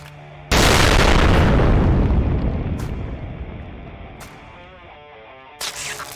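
Cartoon explosion sound effect, a single loud, close boom that hits suddenly and then rumbles and fades slowly over several seconds, followed by a faint echoing tail and a brief second burst at the end.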